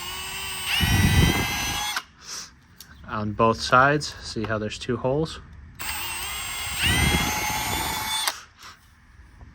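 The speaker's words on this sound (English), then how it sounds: "take a 1/4-inch drill bit and just drill out the plastic here on this bracket" Two loud bursts of a power drill with a 1/4-inch bit boring through a plastic front seat bracket on a GX470, close up, with someone talking in the pause between them.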